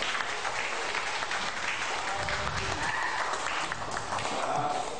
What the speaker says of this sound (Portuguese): um salmo de palmas para vocês